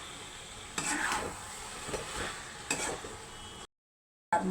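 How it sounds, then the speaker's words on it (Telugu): Peeled taro roots tipped into a pan of cooked-down tomatoes and onions for a curry, giving a low steady sizzle with several scraping, rustling stirs, close by, before a sudden cut to silence. "ఇప్పుడు ఒలిసి పెట్టుకున్న చామదుంపలు వేస్తున్నాను"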